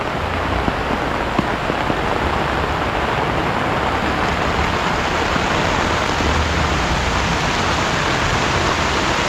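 Heavy rain pours steadily during a fiesta in Claveria, Misamis Oriental, Mindanao, a dense, loud, unbroken hiss of drops drumming on surfaces with no voices.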